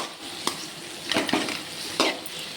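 Frying in a pan while dried fish curry is cooked, a soft steady sizzle with a few distinct scrapes and clinks of a utensil against the pan, close by and without speech.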